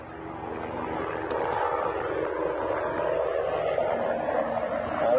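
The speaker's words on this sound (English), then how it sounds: "It's just a helicopter flying past." Helicopter flying past over a game reserve during an evening safari drive, a steady, moderately loud rotor and engine drone that swells slightly toward the end, with no talk.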